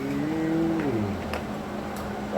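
A man imitates a cow with a single drawn-out moo that slides downward in pitch, fairly close and alone, amid faint background noise in a home garage setting.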